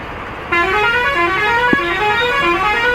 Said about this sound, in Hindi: पटना से किशनगंज की बस है भाई ये